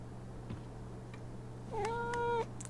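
A cat in the video game Life is Strange: True Colors gives a single clear, drawn-out meow near the end, rising out of a steady low background hum after a few faint clicks.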